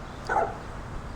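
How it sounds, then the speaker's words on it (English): A neighbour's dog gives one short bark, somewhat distant and fairly faint, over a quiet outdoor background at a residential property. "That's a neighbor's dog."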